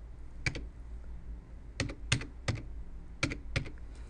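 Keys clatter on a computer keyboard as a serial number is entered, short clustered bursts of crisp taps separated by brief pauses, close and fairly quiet in a still room.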